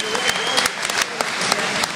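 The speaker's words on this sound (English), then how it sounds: "Ladies and gentlemen, can both these fighters round of applause, please?" A boxing crowd at a hotel fight night claps for both fighters, a steady wash of applause with sharp individual claps and some voices mixed in.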